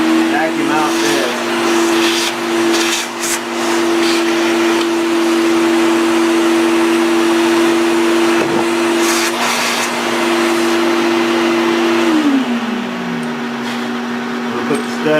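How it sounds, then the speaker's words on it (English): A vacuum cleaner runs continuously while cleaning out an engine part in a workshop, its steady loud whine holding for most of the clip before the motor pitch drops as it winds down near the end. "Now we're going to go ahead and we're going to vacuum out this."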